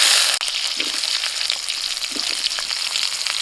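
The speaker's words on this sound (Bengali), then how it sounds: "তেল গরম হয়ে গেছে, আলুগুলো ভেজে নেব।" Parboiled potatoes fry in hot mustard oil in a wok (kadai), giving a bright, steady sizzle with soft crackles and a few faint stirring scrapes.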